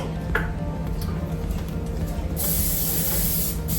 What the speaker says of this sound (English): Now we have to grease a bread pan. I'm just going to spray it with this today.